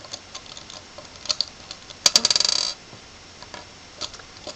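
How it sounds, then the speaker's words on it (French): Small beads drop and clatter while being threaded onto a shamballa bracelet cord, with scattered light clicks and a brief rapid rattling burst in the middle. "Donc là vous mettez vos perles à l'intérieur. Donc voilà, je mets les perles."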